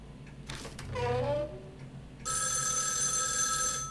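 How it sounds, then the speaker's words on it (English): A telephone rings in the horror video game Spirit Hunter: NG, a loud steady electronic trill starting partway through after a brief voice and other game sounds. "Another phone call?"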